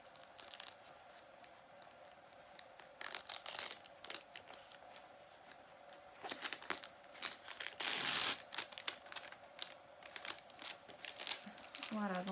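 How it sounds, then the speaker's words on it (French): Transfer paper peels away from iron-on letters in a sewing project, making intermittent crinkling and tearing rustles that build to a louder rip partway through, with a voice faintly talking underneath. "le papier se retire"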